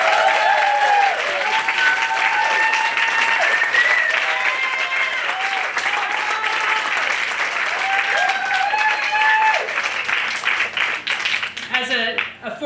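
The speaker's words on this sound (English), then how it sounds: "we've given a lot of applause tonight" Sustained audience applause and cheering rise at an evening fundraiser kickoff for a community walk, dense clapping mixed with whoops and voices, fading near the end.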